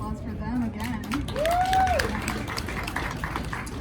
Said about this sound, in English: So, go a round of applause for them again.